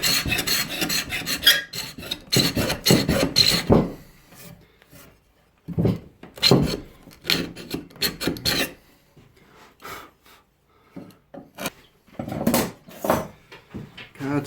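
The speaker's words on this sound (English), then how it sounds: "Carbon tip scraper." A carbide-tipped scraper rasps across old chair timber, pulling off glue and finish in repeated loud, close scraping strokes broken by short pauses.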